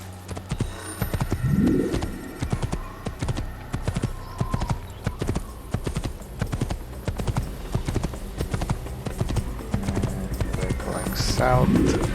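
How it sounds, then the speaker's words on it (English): Horse galloping in the video game Assassin's Creed, a steady rapid clip-clop of hooves throughout, with brief snorts and faint birdsong in the background. "Back on the horse."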